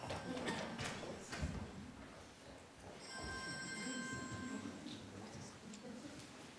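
A mobile phone ringtone chimes for a couple of seconds during a live stage talk, faint under the room's murmur and a speaker's voice.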